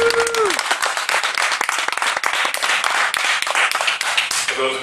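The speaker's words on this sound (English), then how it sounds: "You can applaud now." Loud, close applause and clapping from a crowd at a shark fin ban event in Canada, dense rapid claps sustained throughout with a brief tonal sound at the start and end.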